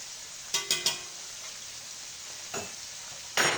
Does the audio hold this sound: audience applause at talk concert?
no